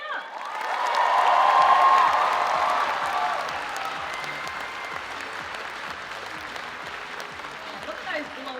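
A crowd at a PAX Aus cosplay contest bursts into loud applause and cheering with whoops, swelling and peaking early, then settling into steadier clapping; an announcer's voice sits under the noise.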